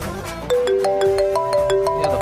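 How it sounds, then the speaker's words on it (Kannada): A phone ringtone plays clearly, a repeating melodic tone pattern that rises in steps and pulses steadily for about two seconds, close and fairly loud with no talk over it, heard indoors in a Kannada TV serial scene. "ಏನೋ ಫೋನ್ ಬೇರೆ ಬಂತು"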